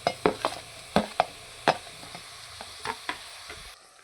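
Pav bhaji tomato masala stirred and fried in oil in a pan for a street-style dish: a series of sharp spoon scrapes and clacks, about ten in an irregular rhythm, over a soft constant sizzle, close and moderately loud, with no talking.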